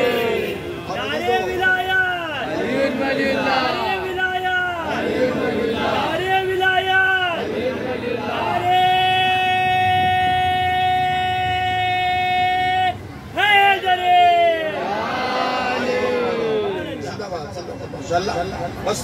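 Audience at a Shia majlis for Imam Hussain chanting religious slogans in unison, loud and close, a repeated call-and-response rhythm of massed voices with a sustained held tone in the middle, reverberant hall crowd.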